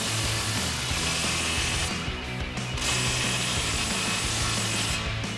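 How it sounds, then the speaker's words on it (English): A ratchet turning a 15mm socket clicks in a rapid, continuous metallic chatter while tightening an exhaust clamp on a Toyota Tundra, close and loud, with a short pause midway. "we grab our 15mm socket and tighten down our clamp"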